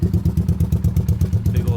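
A Honda 185s motorcycle fitted with a 200cc piston and a Super Trap exhaust idles close by with a raised idle, a fast, even, low thumping pulse throughout.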